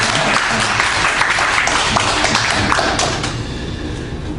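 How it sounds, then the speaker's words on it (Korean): Korean church congregation applauding during a Sunday Lent worship service, a dense steady clapping wash that tapers slightly toward the end. "축복의 박수를 보내겠습니다."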